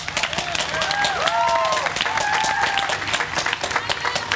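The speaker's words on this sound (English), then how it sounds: "I think they all should be given a good applause" A convocation audience at the 2016 UW-Tacoma ceremony applauds teachers with steady, dense clapping that fills the hall throughout, with a few whistles rising over the crowd noise.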